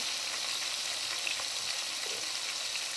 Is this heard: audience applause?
no